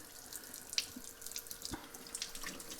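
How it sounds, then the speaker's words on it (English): Cleaned razor clams are rinsed under a running tap at a sink, with a steady close splash of water broken by small drips and brief handling noises. "Go ahead and just wash all that out."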